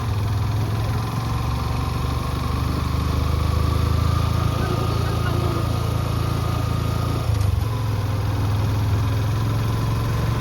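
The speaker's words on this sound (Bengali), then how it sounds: "বাইক চালানোই যাচ্ছে না, মানে এত বালি, মানে বালিতে চাকা খালি বসে যাচ্ছে" A motorcycle engine drones steadily at close range as its wheels sink into soft beach sand at Digha, a constant mid-pitched labouring hum with a slight dip near the end and no voices.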